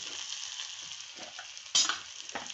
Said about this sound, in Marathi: मस्त झणझणीत असा तडका तयार झाला आपला